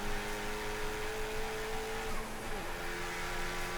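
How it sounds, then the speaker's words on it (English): Race cars at Summit Point circuit on Labor Day with Porsche, Cobra, Mustang and Camaro in the field, giving a steady loud engine drone with a shifting pitch as a car holds speed, continuous and close. "Tristan finishes this race in P2 behind the Porsche, leaving the Cobra, the Mustang, the Camaro, and the Panos behind him"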